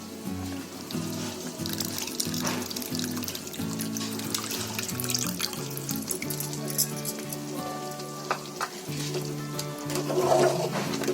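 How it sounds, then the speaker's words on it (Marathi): Tamarind juice pours and trickles steadily into a pot of chicken, a continuous watery splashing with faint clinks over a low background hum. "आता याचा चांगला ज्यूस आहे ना त्याच्यामध्ये ओतायचा"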